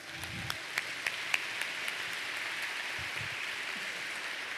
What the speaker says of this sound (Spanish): ¿Y por qué no le damos un fuerte aplauso a Elliot?